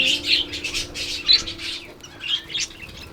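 Small birds chirp and squawk in short, bright bursts inside a garden aviary with natural branches where zebra finches are kept, the calls close and repeated over a low steady hum.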